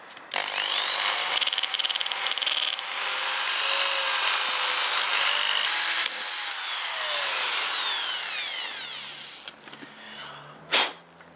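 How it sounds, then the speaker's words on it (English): A power drill bores holes through the bridge of an ST-1 guitar, giving a loud, close, continuous whine with a rising and falling pitch for about nine seconds before it stops and a brief knock follows. "Now we just need to drill in through the bridge, and we'll put that into place."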